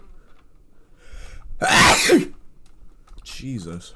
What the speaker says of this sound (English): Hold on, I gotta sneeze again.